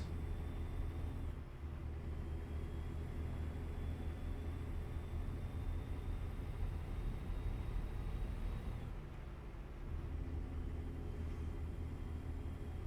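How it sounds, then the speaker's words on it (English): A truck engine in American Truck Simulator, a steady low rumbling drone while driving, with a short dip and a slowly rising whine as the revs climb. "I really do enjoy the sound of this truck"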